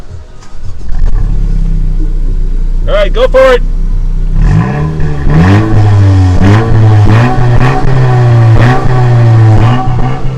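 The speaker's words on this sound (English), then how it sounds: "we'll rev it so you can see what it sounds like" A 2017 Honda Civic Si engine idles with a deep rumble, then is revved hard in a quick burst and again in a series of throaty exhaust blips; someone speaks briefly beforehand.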